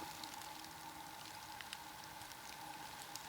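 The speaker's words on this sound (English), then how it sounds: "I've got a very light rain right now." Light rain patters softly and continuously outdoors in January, a faint, even hiss of drops with no voices.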